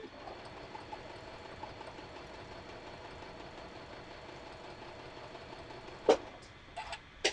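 A sewing machine stitches a quarter inch seam on quilt blocks with a steady, quiet mechanical whir and rapid ticking, ending with a few sharp clicks.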